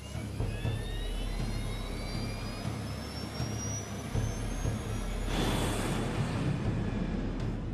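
An airliner's jet engines spool up to takeoff thrust, a loud rising whine building into a broad roar that swells further after about five seconds.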